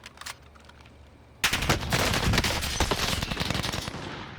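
Sustained automatic gunfire in a first-person shooter match, a quiet lull with a few faint shots, then loud rapid bursts erupting and continuing densely close by, with no talking.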